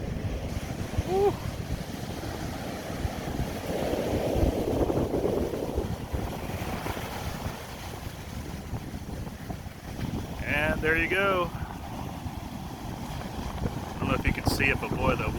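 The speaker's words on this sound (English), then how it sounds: "the wind is knocking the tops of those waves right from left to right" Strong wind buffets the microphone on a cold Florida beach as ocean waves churn and wash in steadily, with a voice briefly exclaiming near the end.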